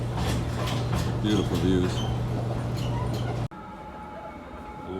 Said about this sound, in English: Old school train on the Ōigawa line.